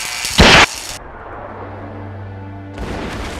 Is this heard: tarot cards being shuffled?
no